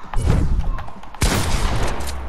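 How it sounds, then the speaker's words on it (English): Gunfire in a video game shooter, a burst of sharp shots up front, then a loud boom about a second later followed by a sustained noisy rumble. "I'm shooting her once"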